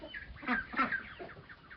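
Roosters clucking close by in a farmyard as they are driven into the coop, a short run of overlapping throaty calls.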